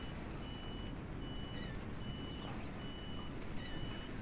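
In the Euro Truck Simulator 2 video game, a truck's reversing alarm beeps at a steady, regular rhythm, with about seven high, clear tones over a low engine rumble.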